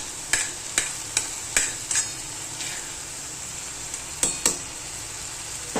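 Vegetables stirred and fried in a steel kadai: a spatula strikes and scrapes the metal in sharp, irregular clinks over a soft, continuous sizzle.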